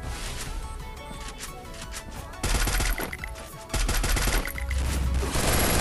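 Shotgun fire in a video game shooter, rapid close bursts of gunfire with loud blasts clustered in quick succession, dense and repetitive with no talking.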